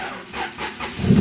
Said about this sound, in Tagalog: Ito, cold start.